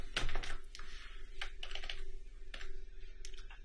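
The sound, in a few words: typing a phone number on a computer keyboard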